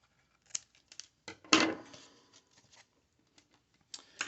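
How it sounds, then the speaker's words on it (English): Scissors snip through cardboard while a flashlight is being made, giving a few sharp, close clicks and one louder crunching cut, with faint rustles between them. "So I'm going to take my scissors and I'm going to just cut that right there."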